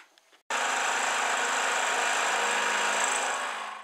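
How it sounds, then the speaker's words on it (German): A power drill starts abruptly and runs at a steady high whine as a reground two-flute bit bores a hole during repair of a corner bench seat, loud and continuous for several seconds with no talk. "ich bohre jetzt einfach nochmal mit dem überschliffenen Zweischneider rein."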